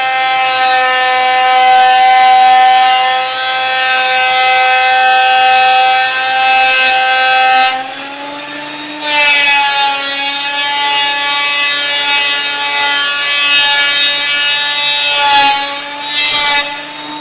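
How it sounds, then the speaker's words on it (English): A drum sander sands resawn macassar ebony guitar back and side pieces with a loud, sustained, high-pitched droning whine. It briefly drops out once in the middle and dips near the end as the board passes through. "now we're running it through the table sander or drum sander to make everything a uniform"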